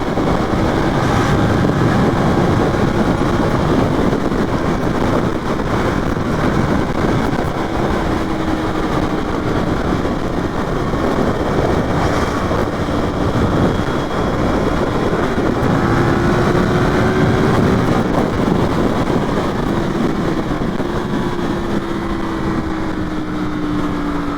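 A Yamaha FZ-10 motorcycle ridden in fourth and fifth gear on a commute: a loud, continuous engine drone blended with heavy wind rush, its pitch sliding slowly as speed changes, with no speech.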